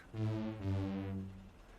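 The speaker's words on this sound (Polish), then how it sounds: "To były syreny Arka i Bartka." A loud two-tone diesel locomotive horn sounds in two long blasts, the second following almost immediately, with a rich harmonic blare that fades out at the end.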